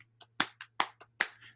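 Sharp hand claps struck in an uneven, syncopated rhythm, about seven crisp claps in quick succession, close and clear with no talking.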